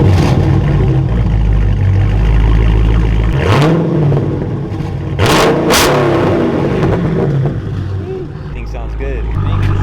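A Dodge Challenger Scat Pack engine revs hard up close, throttle rising and falling in loud bursts, with people talking over the roar.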